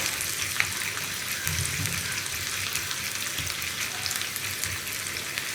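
Onions sliced into rounds fry in coconut oil in a pan, giving a steady, close crackling sizzle under occasional soft stirring scrapes and light clatter, with no speech.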